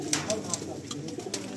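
Pigeons in a loft of Murshidabad giribaj and other fancy breeds, giving soft low coos under faint background voices, punctuated by several short sharp clicks and flutters.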